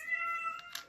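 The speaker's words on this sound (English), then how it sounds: "That was my cat." A pet cat lets out a loud, drawn-out meow indoors, close up and rising at the end, with no talk over it.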